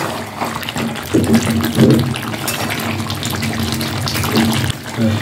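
Water pours into a pot of Bengali chicken curry in a steady, splashing stream, close and fairly loud, with the gurgle shifting as the pot fills.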